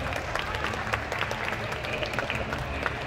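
A talk show audience applauds with steady, dense clapping, and voices murmur and cheer underneath.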